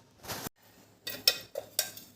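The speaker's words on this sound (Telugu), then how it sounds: "అదే మూకిడి మళ్ళీ పెడుతున్నాను." A metal cooking pan set down on a stovetop in a home kitchen gives a few sharp clinks and clatters, close and fairly loud, with short quiet gaps between them.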